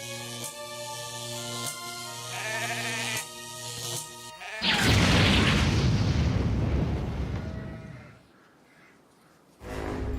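A sheep bleats loudly in a few wavering, drawn-out calls, followed by a heavy rumbling boom that swells and fades before another burst of noise.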